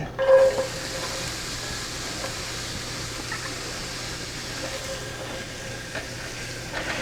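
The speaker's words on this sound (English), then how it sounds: "We're going to put a little olive oil in it. And the first thing we're going to do is saute some onion." Onion sautéing in olive oil in a pan over medium heat gives a steady, soft sizzle with faint stirring that runs the whole time, close by and with no talking.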